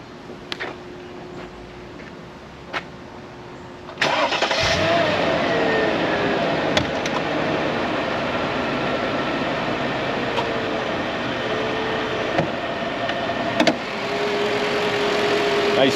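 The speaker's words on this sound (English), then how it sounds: "Now I'm going to fire up the motor" A 2000 Mercedes-Benz E55 AMG engine cranks and fires after a few faint clicks, then settles into a steady, fairly loud idle with a low even hum that continues to the end.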